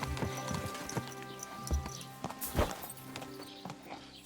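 Horse hooves clip-clop at a steady walking gait while riding in Kingdom Come Deliverance II, close and moderately loud, with a brief neigh and background game ambience, no talking.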